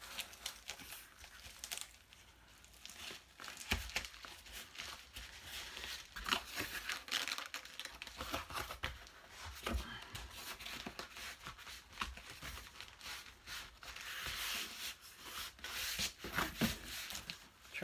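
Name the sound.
folding in the sides of packaging for an eBay shipment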